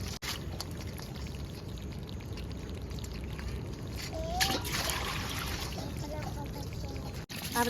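Water pours and splashes into a vessel while washing kesla vegetable, over a steady background hiss, with a brief louder splash midway and faint voices nearby.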